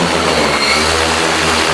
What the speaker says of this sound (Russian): Этот дрон может нести на себе 14 литров биологического препарата.